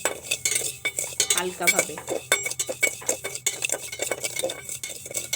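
Tea leaves and sugar dry-roasting in a pan while a utensil scrapes and stirs, giving a busy run of clinks and scrapes against the metal; a voice speaks briefly over it.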